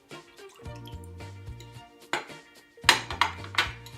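Soy sauce is poured and dripped into a bowl while the sauce for Korean yangnyeom fried chicken is mixed, giving small liquid splashes and light clinks of dishware over steady background music.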